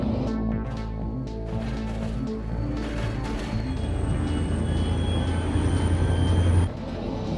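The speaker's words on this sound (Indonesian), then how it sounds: "Lalu Will dan Frank pun mulai menjalankan keretanya menuju salah satu stasiun" A train rumbles steadily along the tracks with a low, continuous roar and clatter, joined midway by a sustained high-pitched whine that cuts off near the end.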